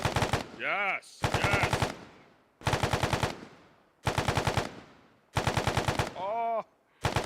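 Heavy machine gun fire crackles during a military field training exercise, coming in about five rapid, loud bursts separated by short pauses, with brief radio-like voices speaking between them.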